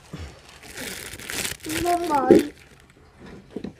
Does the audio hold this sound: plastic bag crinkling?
yes